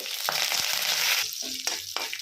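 Curry leaves, crushed garlic and tempering spices sizzle and crackle in hot oil for gongura pickle, a steady close frying hiss with a few sharp pops and faint stirring clinks, no voices.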